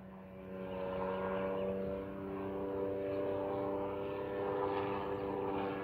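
A Rans S12 light propeller aircraft drones steadily as it passes, a loud continuous engine hum with strong tonal harmonics that swells slightly and holds for several seconds.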